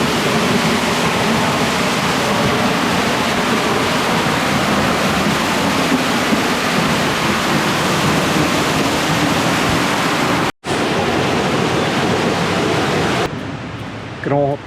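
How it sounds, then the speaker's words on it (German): The Giesbach waterfall roars as a loud, steady, broadband wash of falling water heard from the path behind it. The sound cuts out for an instant and then eases slightly near the end. "Man kann also sogar hier auf dem Weg hinter dem Wasserfall durchlaufen"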